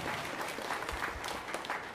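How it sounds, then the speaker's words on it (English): Audience of kids at a school winter concert applauding their parents, a faint, steady patter of many hands clapping from a distance. "Kids, give your parents a round of applause for supporting you and supporting music education."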